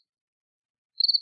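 Brief burst of cricket chirping, a rapid high trill of a few pulses, fairly faint and alone after near silence.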